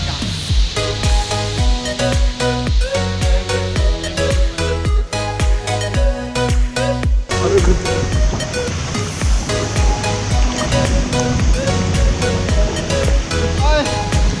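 A waterfall near La Fortuna, Costa Rica, pours as a steady broadband rush, partly buried under loud rhythmic music that runs throughout.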